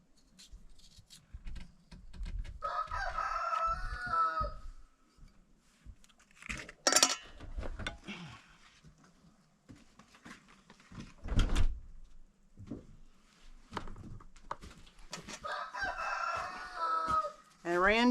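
A rooster named Randy crowing twice in a garden where potatoes are being planted, each call a clear drawn-out cry set apart by quiet stretches, with scattered clatter and brief talk nearby.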